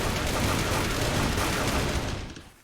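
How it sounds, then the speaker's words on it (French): Rapid, dense gunfire from the Squid Game mode in the Roblox video game, a continuous loud barrage of overlapping shots that fades out at the end. "Oh, ça tire."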